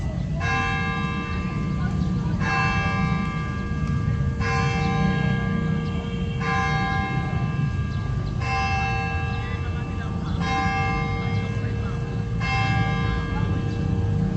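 Church bell at Manila Cathedral ringing at noon, loud clanging strikes about every two seconds, each with a long ringing tail, over a background of street noise and distant voices.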